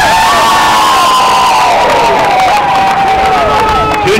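A large crowd cheers and shouts loudly and continuously at an enthusiastic Special Olympics team send-off ceremony in Delaware, with children's shrill voices and whoops rising above the roar throughout.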